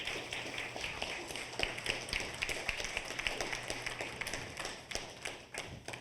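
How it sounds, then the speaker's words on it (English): A small group at a teen science café claps for a marine science graduate student speaker, scattered uneven hand claps close by, thinning out toward the end. "can we just take a quick pause real quick and just do a round of applause for our speaker, Liz, tonight?"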